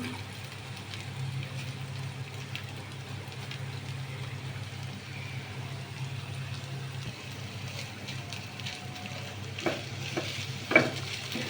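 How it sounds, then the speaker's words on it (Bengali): An egg fries in a little oil in a pan beside vegetables pushed to one side, giving a continuous even sizzle with a low hum beneath and a few light utensil clicks toward the end. "সবজিটাকে এক সাইডে রেখে ডিম ছেড়ে দিলাম একটা একটু তেল দিলাম"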